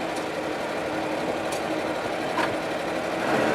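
A GAZ-66 truck engine running steadily with a rough, continuous mechanical drone, rising slightly in intensity toward the end as if being revved, fairly close and without talk.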